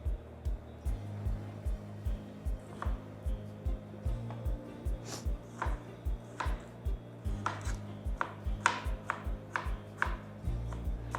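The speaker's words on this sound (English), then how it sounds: "Now we're gonna start chopping up the tomatoes." A knife chops tomatoes for pico de gallo on a cutting board in quick, regular knocks, about two per second, close and clear and continuing throughout with a few sharper cuts toward the end; nobody speaks.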